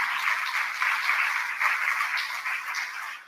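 Audience applause at a launch ceremony, a steady even wash of many hands clapping together from moderate distance, holding at a constant level throughout with no voices over it.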